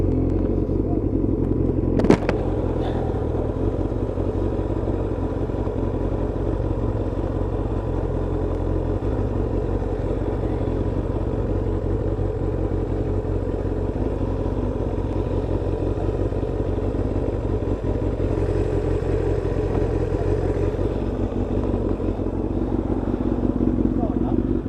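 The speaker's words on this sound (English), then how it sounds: "Oh god, there's plenty of bikes here." Motorcycles idling and rumbling in a car park on a cold Sunday, a continuous low engine clatter with a sharp knock early on, while a rider talks over the noise.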